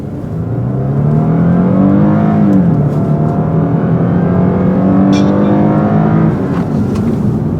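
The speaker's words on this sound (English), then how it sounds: "let's see how long it takes the GS to get to 60 from a standing start" A 2010 Lexus GS 350 accelerates at full throttle from a standstill, its engine note loud and close, rising in pitch, dipping briefly at a gear change, then climbing steadily again.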